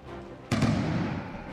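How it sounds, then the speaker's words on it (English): In the Empire Total War strategy game, a shrapnel artillery shot booms with a single sudden blast and a rumbling tail that lingers over the battlefield's low background noise. "As the shrapnel shot booms in and kills a whole bunch more."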